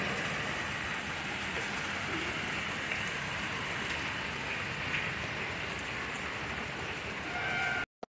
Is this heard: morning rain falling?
yes